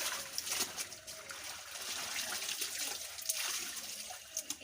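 Clothes being washed by hand in a tub of water, soft sloshing, trickling and dripping with small splashes, quiet and close, faint talk barely present underneath.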